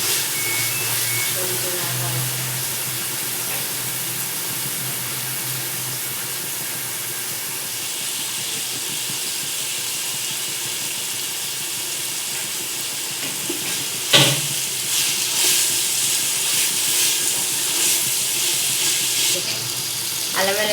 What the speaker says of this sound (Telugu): పచ్చివాసన పోయేంత వరకు ఫ్రై చేసుకుందాం.